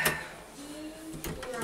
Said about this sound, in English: It's a high tech, 2-speed door.